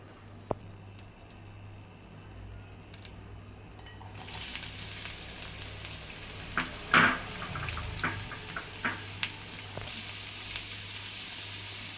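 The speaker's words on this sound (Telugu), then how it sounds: "ఒక కప్పు ఆనియన్ వేసి బాగా పింక్ కలర్ వచ్చే వరకు వేయించుకోవాలి" Sliced onions dropped into hot oil in a pan, a quiet pan giving way to a sudden bright sizzle that continues steadily, with a few clinks and stirring sounds, close up and without talk.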